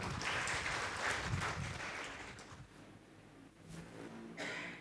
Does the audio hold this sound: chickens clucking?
no